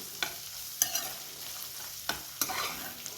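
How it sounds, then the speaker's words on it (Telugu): Egg bhurji with pepper powder is stirred in a pan, a low sizzle under a few distinct scraping knocks of a spoon against the metal, close and fairly quiet, with no talking. "ఈ ఎగ్ బుజ్జీలో కొంచెం మిరియాల పొడి వేస్తున్నాను. బాగా కలుపుకుందాము."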